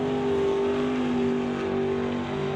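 Drag racing cars, one a Plymouth, launching together at a Doorwarz event, a loud sustained high engine roar holding steady, with no speech.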